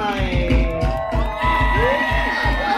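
A luau crowd at Paradise Cove in Hawaii cheers and whoops loudly, with rising shouts over a steady pulsing drum-like beat underneath.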